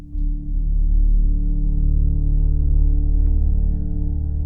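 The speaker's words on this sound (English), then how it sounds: "first up is this sound called Moody Hall" Moody Hall, an ambient pad from the Logic library, swells in as a low, dark, sustained drone, steady and fairly loud with a long smooth tail.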